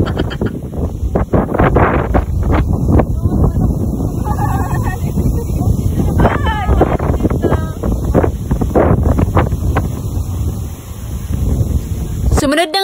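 Strong wind buffets the microphone on Corregidor Island, high up in a coconut tree, with a constant loud roar throughout and people talking over it.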